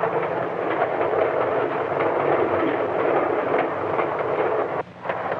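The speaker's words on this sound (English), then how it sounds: "While the train speeds into the dusk" A 1950s American passenger train speeds along the tracks at dusk, giving a steady, dense rolling roar with rattling wagons, continuous and fairly close, with a short dip near the end.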